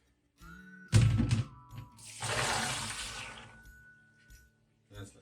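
Soaked garbanzo beans are rinsed under a running tap, giving a close burst of splashing and rattling followed by a few seconds of steady pouring water. Quieter thuds and handling noises come before and after.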